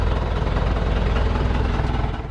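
Boat engine idling at a steady, loud low rumble with even pulsing throughout and no voices.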